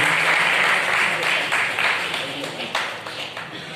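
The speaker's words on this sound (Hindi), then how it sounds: "ताली बजाकर आप लोग स्वागत करते रहिए।" An audience claps in applause to welcome guests at a foundation event, dense sustained clapping that gradually thins, with a voice speaking over it.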